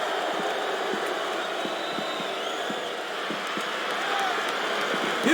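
A steady, dense roar from the arena crowd in the WWE SmackDown vs. RAW 2007 video game, constant and moderately loud throughout, with faint thumps underneath.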